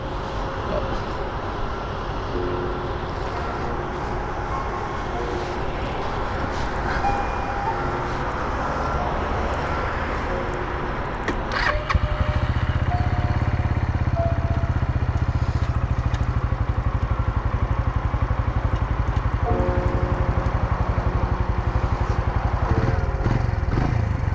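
A Suzuki TU250X motorcycle engine runs with a busy mechanical clatter, then catches and settles into a louder, steady low idle that continues to the end.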